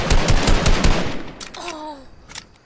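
Rapid gunfire from the player's own weapon in Fortnite, a fast burst of loud close shots in a rattling rhythm, then a short lull with a tonal game cue and another sharp report at the end.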